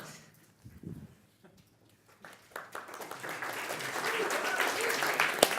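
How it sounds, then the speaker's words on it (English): Scattered claps start softly, then build into full audience applause that grows louder and denser toward the end. "Let's hear a round of applause."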